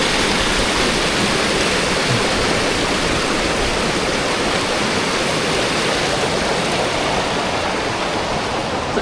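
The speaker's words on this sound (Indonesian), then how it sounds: "Ini sungai alami guys, watune ora ditatani ya, watune alami sepertinya." Steady, loud rush of a natural mountain river tumbling over unarranged rocks on the slopes of Mount Slamet, a dense continuous roar with no voices, holding even throughout.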